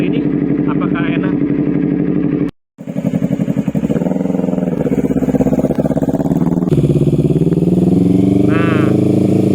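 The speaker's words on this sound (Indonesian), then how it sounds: "langsung aja kita tes motor ini apakah enak." Yamaha R25 motorcycle engine on a test ride, a steady droning hum with rising and falling revs, briefly cut off near the start and then continuing loud and close under a man's speech.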